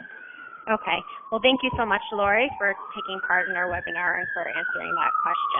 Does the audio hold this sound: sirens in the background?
yes